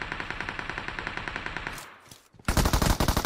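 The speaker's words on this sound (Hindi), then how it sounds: "उसका टीममेट वहां से भाई अपनी सस्ती सी गन चला रहा है" Rapid automatic gunfire in a mobile shooter game fires in a long close burst, falls silent briefly, then a second loud burst starts in another dense stream of shots.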